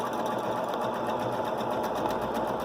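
A sewing machine on a Grace Cutie quilting frame stitches through a quilt at a slow, steady speed, giving a continuous close whirring hum with a fast repetitive needle pulse and no talking.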